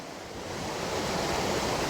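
A monsoon-fed river in Vaghave, Dapoli, flows straight down into the tidal creek after heavy Konkan rain, giving a steady, moderately loud rushing wash that builds slightly over a couple of seconds, with no voices.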